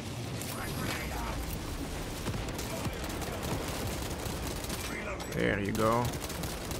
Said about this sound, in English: I need to drop my grenades at this guy.